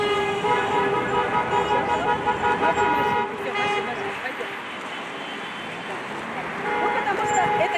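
A motorcade of cars carrying Ukrainian and Tatar flags drives along a city's central avenue, horns tooting in sustained, overlapping blasts over steady engine and traffic noise throughout.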